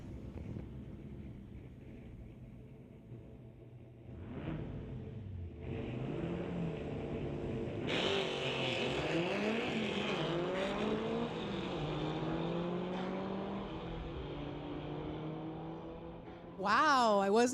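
A gray Volkswagen launches down a drag strip at a Volkswagen-days street legal night, its engine rising through rapid gear changes in a sustained loud roar with a sharp burst near the end, while a commentator talks over it.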